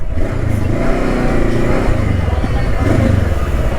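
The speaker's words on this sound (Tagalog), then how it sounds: "Ayan na, sakto, padaanin natin yung truck." A truck pushing through deep flood water on a flooded highway, a loud, continuous low engine rumble blended with churning water and rushing splash noise, close by, with voices mixed in.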